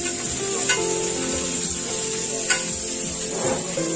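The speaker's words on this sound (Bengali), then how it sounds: "রুটিটাও মামা এইটাও দিয়ে ভাজবেন" Roti frying in a pan, a steady broadband sizzle throughout with a few brief scrapes or stirs, close and moderately loud, with no one speaking.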